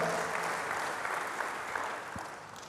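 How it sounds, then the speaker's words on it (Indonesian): A church congregation applauds during a sermon, a soft, steady, distant wash of many clapping hands that tapers slightly toward the end. "Berikan tepuk tangan bagi Tuhan."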